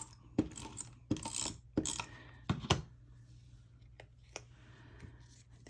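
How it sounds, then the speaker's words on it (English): An Elmer's tape runner laying adhesive tape during bookmark crafting, with several quiet, close bursts of clicking and rolling separated by pauses. "I'm just going to use this Elmer's tape runner for this part."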